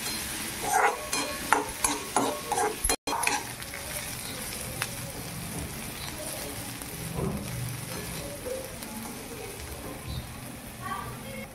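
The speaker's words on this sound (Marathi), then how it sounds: "त्याने चांगले व्यवस्थित तांबूस कलर येईल तोपर्यंत आपल्याला भाजायचं आहे" Curry leaves and peas roast in a pan for shevaya upma, giving a steady crackling sizzle with stirring scrapes and a voice talking over the first few seconds.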